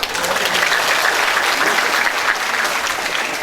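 An audience at a Balinese drama gong comedy performance breaks into loud, dense applause, many hands clapping steadily close by without pause for the whole stretch.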